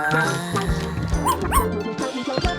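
A new puppy yipping and bow-wowing in short bursts, high-pitched barks and whimpers close by, several sharp yips scattered over a couple of seconds.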